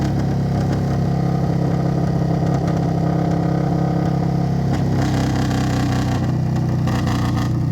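An Indian Scout Bobber motorcycle engine braking, a loud, close, droning exhaust with a steady low hum and burbling pops that shift in pitch as the revs fall, no speech.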